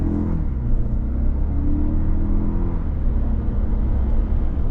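A 2026 Toyota Grand Highlander Hybrid Max SUV accelerates from a stop in normal mode, the engine and motor droning loudly inside the cabin with a rising whir and shifting hum, steady and close.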